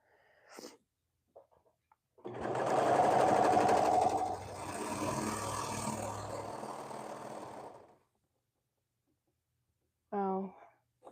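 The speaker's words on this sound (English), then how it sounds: "maybe the serger is going to make it shake" A serger sewing machine runs in a steady dense burst for about six seconds, starting abruptly and stopping, with brief faint sounds before and a short voice at the end.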